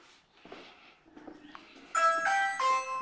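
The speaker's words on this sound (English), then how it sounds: "Well, let me ring the bell." A doorbell rings at the door of a mountain smokehouse in North Carolina, sounding as a few bright, sustained chime tones after quiet shuffling and soft knocks.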